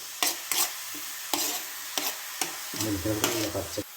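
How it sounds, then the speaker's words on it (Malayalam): Grated ash gourd is stirred in a hot pan, a spatula scraping in a regular rhythm of sharp strokes over a light sizzle, followed by a brief low rattle near the end. "ഇനി നമുക്കിതൊന്ന് ഇളക്കി കൊടുക്കാം കേട്ടോ"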